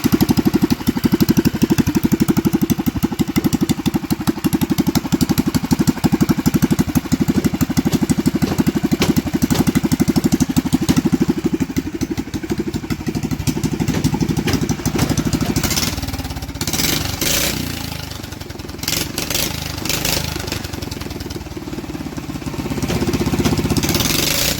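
A go-kart or mini bike small engine with a straight pipe exhaust runs rough and loud, with a rapid crackling putter that holds steady, then revs up and eases off.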